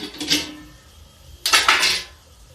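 Metal kadhai set down on a gas stove in a home kitchen, giving two close clanks with short scraping rattles about a second apart, with no voices.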